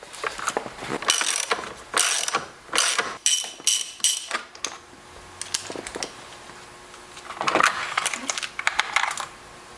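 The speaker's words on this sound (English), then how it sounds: "next we have to remove this main bolt that holds the steering wheel on" Ratchet with a 21mm socket turning the main steering wheel bolt on a 2010 Mazda3, a close series of quick clicking bursts with short pauses between strokes.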